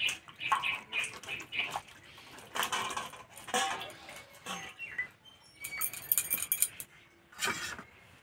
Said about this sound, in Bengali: ফুলকপি বোটাটা কেটে পরিষ্কার করে ধুয়ে নেব।